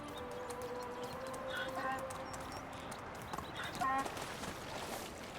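Donkey hooves clop steadily in the medieval survival game Medieval Dynasty, a rhythmic trot of moderate loudness over quiet outdoor game ambience.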